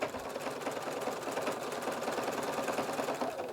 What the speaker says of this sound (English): And then it's going to stitch this little triangle part.